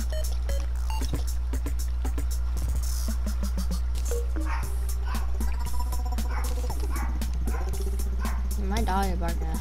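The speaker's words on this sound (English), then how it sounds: "My dog is barking at him." Pet dog barking repeatedly indoors, short sharp yips and barks scattered across the clip, mixed with people talking and a steady low hum in the background.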